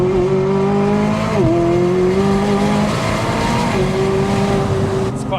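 McLaren 600LT Spyder driving with the roof down, a steady loud engine drone rising and falling with gear changes, road roar and stones pattering against the underside of the carbon tub, no talking.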